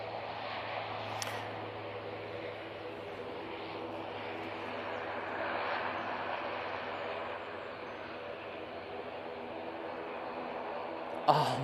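An Emirates Airlines ATR airliner passes Manchester Airport on its way from Glasgow to London Gatwick, a steady distant engine drone holding at moderate level throughout.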